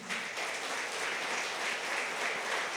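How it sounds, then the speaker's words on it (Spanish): A church congregation claps for the King in a steady, faint round of applause that fills the sanctuary evenly, without voices. "Dele un aplauso al Rey por eso, amén"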